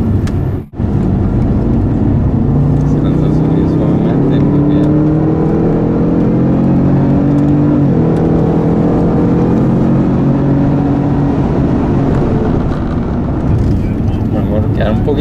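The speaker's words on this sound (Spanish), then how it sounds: "Suavecito con el acelerador acá" Jaguar car engine accelerating on a racetrack during a performance driving session: a loud, steady drone whose pitch climbs and settles repeatedly, close and continuous, with someone talking over it.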